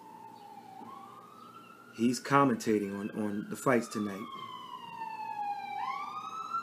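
An ambulance siren wails outside, rising and falling steadily and fairly faint, under someone talking about a boxing broadcast.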